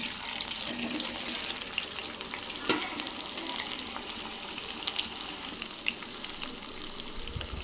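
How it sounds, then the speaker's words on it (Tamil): Cauliflower pieces frying in hot oil for gobi manchurian give a steady, dense hiss and crackle that hold evenly throughout, with a sharp clatter near the middle. "எண்ணெய் நல்லா காஞ்சிடுச்சு. இப்போ நம்ம மிக்ஸ் பண்ணி வச்சுருக்க காலிஃப்ளவரை சேர்த்துடலாம்."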